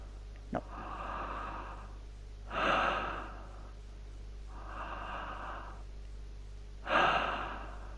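A character in the video game The Bunker breathes heavily in slow, regular cycles, four drawn-out breaths with two louder gasps, over a low steady hum.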